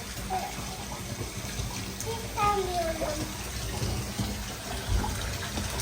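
Water running into a bathtub as it fills, a steady splashing rush close by, with an adult and someone talking over it.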